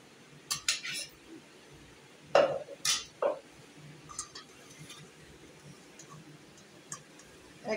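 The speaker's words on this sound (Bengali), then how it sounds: "এবার এটা স্টিলের এরকম ছাঁকনিতে ছেঁকে নিতে হবে।" Boiled tomatoes being strained through a steel strainer with a spoon, giving scattered metallic scrapes and clinks over a quiet background.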